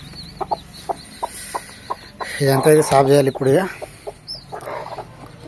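Backyard chickens cluck in short, repeated calls close by, with a louder burst of clucking in the middle while someone talks over them.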